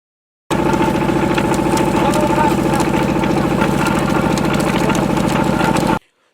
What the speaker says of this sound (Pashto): څوک د شربت د جوړولو په پار ګني په ماشین کې ورکوي